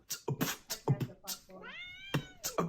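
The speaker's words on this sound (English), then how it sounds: "What do you think is wrong with this cat?" An upset cat meows in a long, rising wail between sharp bursts of scuffling and thumps, close and loud, with a person's voice briefly audible.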